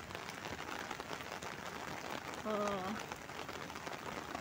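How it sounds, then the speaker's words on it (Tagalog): Dense, steady heavy rain hissing and pattering on surfaces throughout a Hong Kong black rainstorm, with a short tonal squeak partway through. "Madilim pa kasi nga umuulan."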